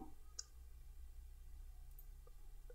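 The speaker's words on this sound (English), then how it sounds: "Let's click on video" Computer mouse clicks, a single sharp click followed by a couple of fainter ones, quiet and close over a low steady hum.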